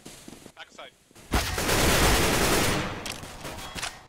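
Gunfire in a tactical shooter game, a few faint pops at first, then a loud sustained burst of rapid shots lasting about two seconds, trailing into scattered shots, with players talking.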